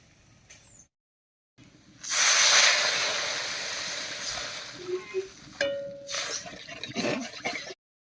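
Water poured into fried spices for a snakehead fish curry sends up a loud, sustained sizzling hiss that slowly fades, followed by a few clinks and stirring sounds from the pan.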